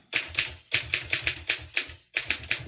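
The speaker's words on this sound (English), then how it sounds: "I just typing up a progress report on the Bobby Lee Amature murder" A manual typewriter clacks out a report in a home setting, with close, crisp key strikes in quick irregular bursts separated by brief pauses.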